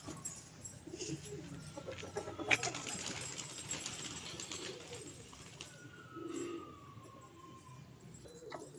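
Soft pigeon cooing with bursts of wing flapping, fairly close, over a quiet outdoor hum with a distant faint siren-like tone.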